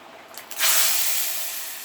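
A tempering of fenugreek and curry leaves hits a fish curry with a sudden loud sizzle, a bright hissing burst that slowly fades, heard alone without talk.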